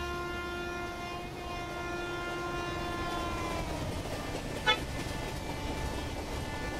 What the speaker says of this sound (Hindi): ट्रेन आ रही है गाइस कोई हॉर्न मारते हुए।